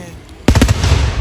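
Fireworks going off outdoors at night, a sudden loud crackling burst of rapid pops after a quiet lead-in, continuing as a dense rumble.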